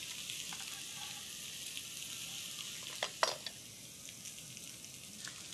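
Steaks with mushroom seasoning and butter sear in a pan, a quiet, continuous sizzle with a few brief clinks and scrapes partway through.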